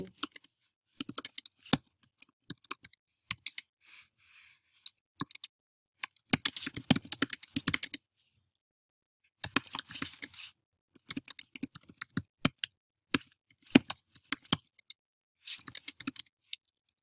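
Typing on a computer keyboard: bursts of quick, light, close key clicks with short pauses between flurries, faint and alone.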